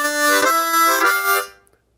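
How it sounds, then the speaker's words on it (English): Harmonica vamping in Chicago blues style, played with tongue blocking: rich chordal bursts pulsing in a quick rhythmic pattern, loud and close, ending in silence. "use the tongue block method because it works very well in tandem with rhythmic vamping"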